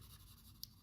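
Alcohol-based markers color inside a drawn cross, making a brief, faint, close scratchy scrawl across paper.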